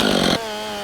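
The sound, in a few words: chainsaw milling a log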